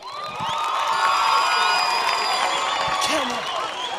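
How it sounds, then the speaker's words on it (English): A classroom of students erupts in loud cheering, whooping and shouting with some clapping, a sustained crowd roar with excited voices rising above it. "Clap hands for Andile."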